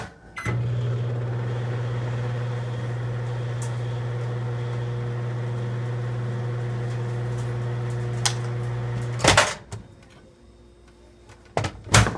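A microwave oven softens 4 tablespoons of butter, giving a steady, close hum for about nine seconds, then a clunk of the door and a few sharp clicks and knocks as it stops and opens.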